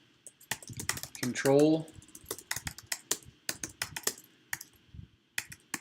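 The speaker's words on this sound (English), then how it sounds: "So let's just type this first." Someone types on a computer keyboard while writing code for if-else statements, brisk clicking keystrokes in bursts close by, with a voice talking briefly over the typing.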